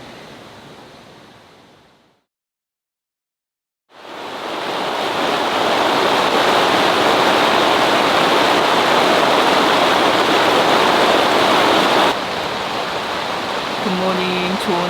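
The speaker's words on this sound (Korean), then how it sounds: "물소리가 쉬지 않고 들려." A valley stream at a summer campsite rushes in a loud, continuous roar after a brief silent gap near the start, with steady broadband flow throughout.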